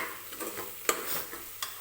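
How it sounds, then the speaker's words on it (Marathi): Onion and tomato sautéing with spices in a cooker for mutton biryani: a soft, steady sizzle with light stirring scrapes and an occasional metallic tap, close and quiet. "कांदा टोमॅटोसोबत परतून घ्यायचे आहेत"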